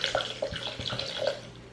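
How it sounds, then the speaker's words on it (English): Plain spring water pours into a blender for a smoothie, a steady splashing gurgle with small drips, close and continuous without talk. "we're just gonna go in with water"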